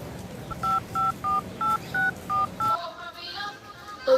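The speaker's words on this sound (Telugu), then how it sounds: "ఒకసారి ఫోన్ చేసి చూద్దాం." Seven short, evenly spaced keypad tones beep in quick succession, like a number being dialed, followed by a faint hum and a brief higher tone.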